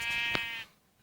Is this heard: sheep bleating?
yes